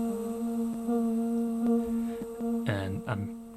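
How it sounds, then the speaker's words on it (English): Sonicware Texture Lab fed by a delay effect: a sustained tone with repeating short plucked echoes, then a brief pair of bright gliding notes near the end, moderately quiet and without talk. "put some delay on before the sound gets to the Texture Lab"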